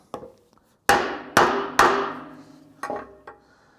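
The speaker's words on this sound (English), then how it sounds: "So if I hit this with hammer," A hammer drives a wooden planking joint together on a boat under construction: three loud, ringing blows in quick succession, then two lighter taps, each with a short woody decay.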